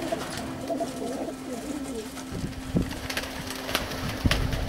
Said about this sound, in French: Ils sont beaux, hein, tes pigeons.